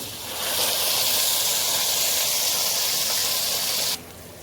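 Rice and vermicelli sizzle in ghee in a pot, a loud, steady frying hiss that starts quickly and cuts off abruptly near the end.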